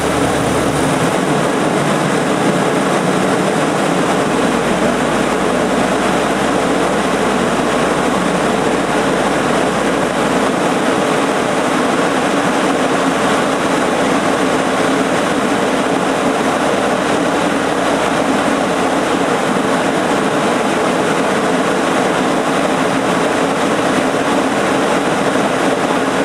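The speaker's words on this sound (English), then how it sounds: "Let's give it some fuel, get the engine temperature up enough to get this O2 sensor working" A car engine runs at raised revs to warm up for an oxygen sensor test, a loud, steady, close drone that holds for nearly half a minute with small shifts in its low rumble and no speech.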